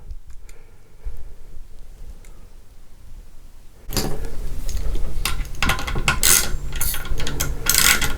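Bolts holding the rear wheel of a Turboant X7 Pro or HX X8 electric scooter are tightened with a ratcheting tool, giving close, fast clicking bursts that grow louder and busier partway through, with no talk.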